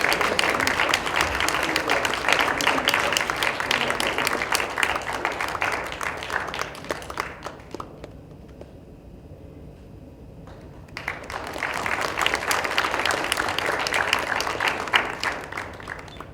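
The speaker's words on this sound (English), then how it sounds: "So please, a huge round of applause for Harshad." Sustained audience applause at the 2017 ACA Championship India awards ceremony, a dense crowd of clapping that dips into a near-silent gap midway before resuming just as loudly.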